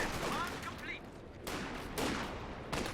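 M1919 machine gun fire in the video game Company of Heroes 2, a dense, fairly faint crackle of gunfire with short breaks and what sounds like a voice under the shots.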